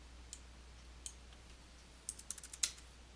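A few sharp, faint clicks of a computer mouse or keyboard, scattered and then bunched near the end, heard close over a quiet room with no talking.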